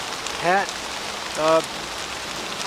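Light rain falls during a hike, a soft steady hiss of drops, while a voice briefly speaks twice close by.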